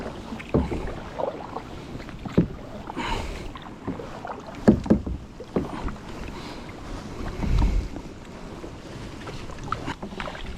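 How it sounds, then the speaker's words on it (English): Kayak being paddled on the River Exe, irregular soft splashes and paddle strokes close by over wind noise, fairly quiet and without talk. "Anyway, I'd better do some paddling."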